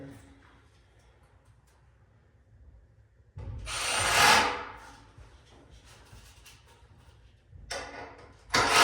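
A power drill drives 4-inch screws into log wood inside a homestead log cabin, with one long whirring burst that rises then fades and a second starting near the end, close up against a quiet room.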